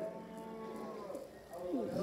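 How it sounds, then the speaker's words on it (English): Cows in a deer simulator video game let out a couple of drawn-out moos, the second rising louder near the end, with faint background noise. "Cows!"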